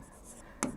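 Pen or marker strokes on a surface during a chemistry lesson, a soft scratching followed by one sharper, louder stroke near the end, close and quiet with no talk heard.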